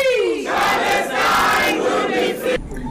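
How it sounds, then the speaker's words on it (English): A crowd of about 30 people in a Cape Town community center bursts into applause and cheering at an ICJ court ruling, a dense, loud, continuous roar that swells quickly and then cuts off near the end. "applause erupted among a diverse crowd of about 30 gathered in a community center in Cape Town"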